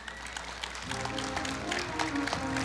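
Applause from an audience at a Korea University anniversary ceremony for an alumni family, a steady wash of clapping that fills the hall.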